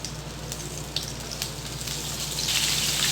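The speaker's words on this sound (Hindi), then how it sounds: "अब मैं लहसुन अदरक की पेस्ट डाल रही हूँ।" Garlic ginger paste hitting hot oil in a pan for Chicken 65, a dense hissing sizzle that builds in intensity, close up with a few faint clinks and no voices.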